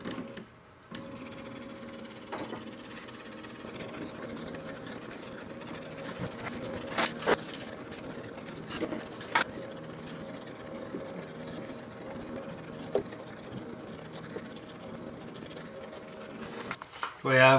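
A ZenXY sand table traces a Sandify wipe pattern through a bed of sand, giving a steady mechanical whirring and ticking with rhythmic repeating motor tones, a few sharper clicks, and quiet speech over it.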